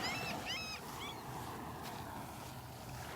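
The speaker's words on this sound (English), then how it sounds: "Did you hear that seagull?" A few high, wavering seagull cries at the start over a steady rush of wind and surf at Delnor-Wiggins beach, then only the ambient roar.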